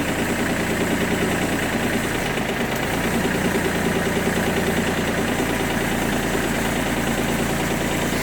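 Shibaura SD1540 Japanese mini tractor diesel engine running steadily at idle nearby, a continuous low knocking rumble with a slight dip in pitch partway through, no voices.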